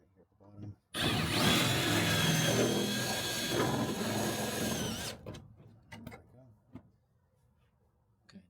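A power drill drives a self-tapping screw into an all-aluminum platform bed on a Sprinter, giving one loud, sustained whir of about four seconds. Faint clicks and a few words of talk follow as it stops.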